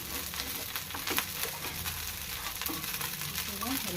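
Crispy rava dosa batter fries in oil on a pan, giving a close, continuous soft sizzle with faint scraping and stirring touches throughout.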